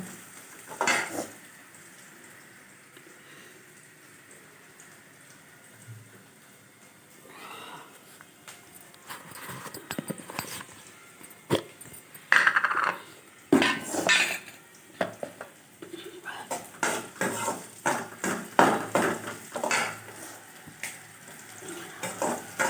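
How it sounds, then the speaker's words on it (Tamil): Onions sauté with a little salt in a pan for a banana-stem poriyal, heard as quiet, scattered spoon clinks and scrapes that grow busier and louder toward the end, with no clear talk. "வெங்காயம் போட்டு வதக்கணும்"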